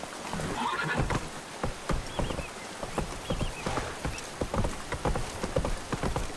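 Roach, the horse in The Witcher 3, whinnies over the steady clip-clop of hooves, a clear neigh early on followed by a continuous rhythmic trot.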